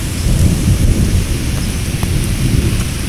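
Thunder rumbles heavily through a thunderstorm in Van Cortlandt, the Bronx, New York City, with steady rain hissing on surfaces throughout and a deep continuous low roll and no voices.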